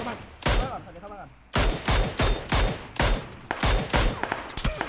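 Gunfire in the PUBG video game comes as loud, close, sharp shots, first a single report and then a fast run of repeated shots, with voices talking excitedly beneath them.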